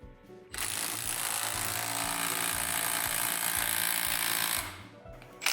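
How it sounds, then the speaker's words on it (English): A Milwaukee M12 Stubby 1/2-inch impact wrench hammers a bolt and nut tight, one sustained loud rattling burst of about four seconds, close and alone. "I am going to tighten this bolt and nut as hard as I can with the new Stubby"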